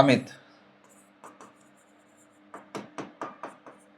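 Writing on a board during a classroom lesson: a series of short, close scratchy strokes, a few spaced taps early and a quicker run of about six strokes at the end, with a brief voice at the start.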